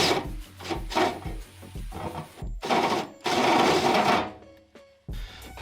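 A car's metal heat shield is drilled through, heard as bursts of harsh grinding and scraping, some rhythmic and some sustained, close up with brief pauses and no speech.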